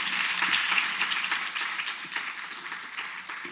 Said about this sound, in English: a final round of applause for my amazing colleagues